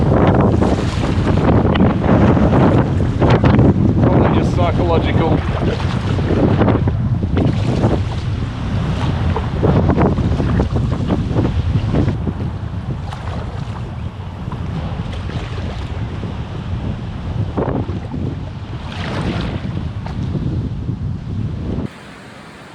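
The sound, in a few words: strong wind on the water while packrafting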